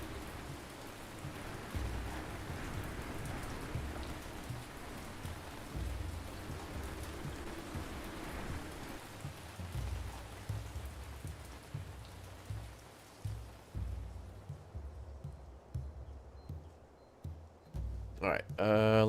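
Rain in the city-building video game Ancient Cities: steady rainfall with rumbling thunder and occasional heavier gusts, fading toward the end as another sound enters, with someone talking over it.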